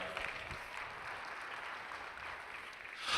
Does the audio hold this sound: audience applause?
yes